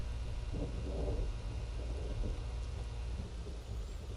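A thunderstorm from the video game SpongeBob: Employee of the Month: steady rain hiss under low, rolling thunder rumbles that swell and fade.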